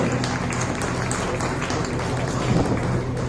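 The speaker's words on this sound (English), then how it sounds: "Let's have a big round of applause for these wonderful people up here." An audience at an international yoga festival talk applauds, a dense, steady wash of many hands clapping that fills the whole stretch with no break.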